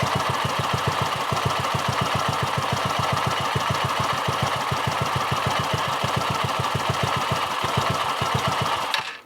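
A Polaris RZR 170 engine idles while its carburetor pilot air screw is adjusted, putting out a close, steady, fast thumping beat that runs evenly for several seconds, then cuts out abruptly as the engine stalls.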